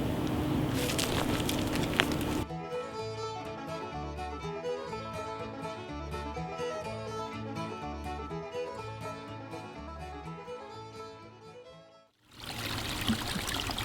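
A small branch stream runs through a wooded hollow in a Monroe County, West Virginia wilderness area, trickling and splashing steadily up close, while a rhythmic musical bed plays over most of it.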